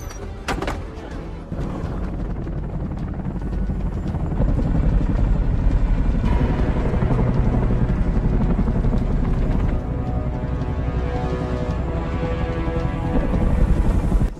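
A Boeing CH-47 Chinook twin-rotor helicopter flies in a military night operation scene. Its rotors make a loud, continuous, rhythmic thudding drone over a deep engine rumble that swells slightly partway through, with no talking.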